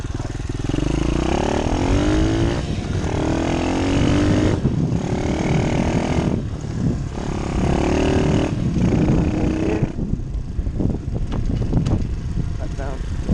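Engine of a Demon DXR 125 pit bike being ridden and shifted through gears, its revs rising and dropping in repeated swells with brief dips between, heard close and steady throughout while a rider talks over it.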